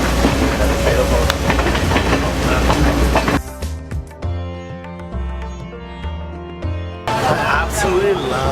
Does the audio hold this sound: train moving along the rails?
yes